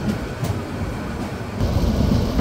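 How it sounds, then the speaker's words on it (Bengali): The Chittagong Mail train rolls into Comilla, a continuous loud rumble and rattle heard from inside a cabin, with the roar swelling slightly toward the end. "ট্রেনটি প্রবেশ করলো কুমিল্লাতে"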